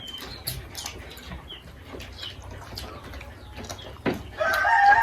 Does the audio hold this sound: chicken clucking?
yes